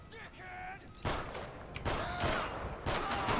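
Airsoft guns fire during an outdoor airsoft game in rapid bursts of sharp snapping shots after a quieter opening, with a person talking early on.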